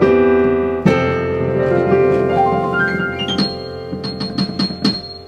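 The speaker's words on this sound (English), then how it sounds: "if we change the number 2, you can see it says Grand Lady D, and it sounds like this" Grand Lady D grand piano patch on a Nord Stage 2 keyboard, with sustained bright chords, a rising run of single notes, then quick repeated higher notes, clear and close with no talking.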